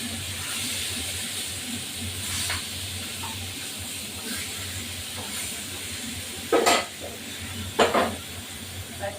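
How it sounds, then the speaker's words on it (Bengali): Salted, turmeric-coated katla fish pieces fry in hot oil, giving off a steady close hiss and sizzle with a couple of sharper spitting bursts near the end. "এখন একটু এই মাছটা ভেজে তারপরে আমি তুলবো"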